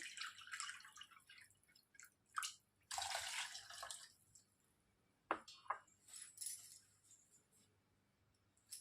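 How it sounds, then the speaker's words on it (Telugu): Water goes into whisked curd for masala buttermilk, splashing and dripping in several short bursts with quieter gaps between them and a few light clinks of the vessel. The sound is close but soft overall, with no talking. "3 కప్స్ వాటర్ వేసేసుకోవాలండి."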